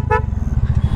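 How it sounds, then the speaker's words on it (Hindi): A loud truck-style horn fitted to a motorbike gives one short honk on a broken road, over the motorbike's close, steady engine putter. "ट्रक वाला हॉर्न तुमने लगवाया हुआ है"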